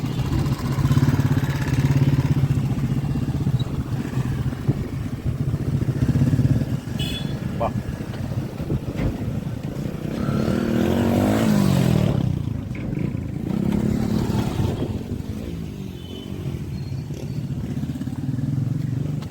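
Motorbike engines hum and rev close by as bikes pass on a narrow road near an Alappuzha beach, with voices talking over the steady, continuous engine noise.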